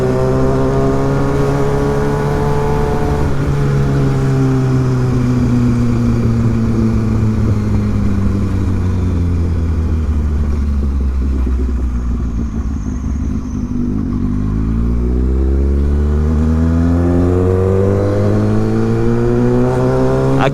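Kawasaki ZX6R motorcycle engine revving loudly on a city street, rising and falling through long sweeping revs with a strong, continuous roar close to the listener.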